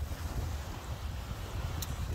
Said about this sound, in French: J'espère que vous m'entendez bien avec le vent.